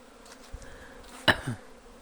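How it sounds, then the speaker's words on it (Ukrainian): Honeybees fly around a hive on a winter day in Poltava region, making a faint, brief buzz close by, punctuated by one sharp knock. "Ще не повністю можна сказати маса, але вже в більшості бжілка літає."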